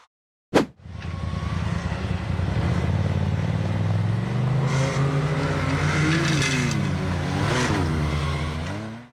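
A dark red off-road buggy powers up a steep dirt hill, its engine roaring loud and close and revving continuously, with the pitch climbing and wavering as it fights for traction.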